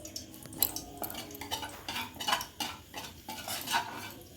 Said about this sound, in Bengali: গোটা গরম মশলাটাকে আমি ঘিয়ের মধ্যে ভালো করে ভেজে নিলাম।